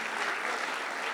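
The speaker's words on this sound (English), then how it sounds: "Give this man one more round of applause." Applause from an audience at a recovery-themed live event, a dense steady clatter of clapping that fills the short moment evenly with no talk over it.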